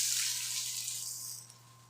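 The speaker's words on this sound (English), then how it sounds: "So, pan is nice and hot. We're gonna pour in our eggs." Vegan egg batter poured into a hot pan, a brief bright hiss and splash that fades out over about two seconds, close and fairly loud with no voices.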